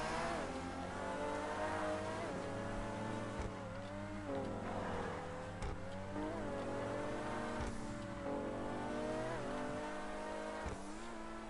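Game car in GTA 5 Online revving and accelerating, its engine note climbing and dropping through repeated gear changes with brief tyre squeals, loud and continuous for the whole stretch.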